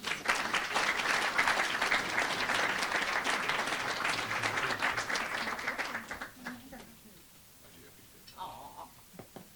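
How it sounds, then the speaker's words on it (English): A crowd at a university alumni and student awards event applauds the student award winners, loud sustained clapping for about six seconds before fading out, followed by quieter room sound and a brief voice. "Please give them another round of applause."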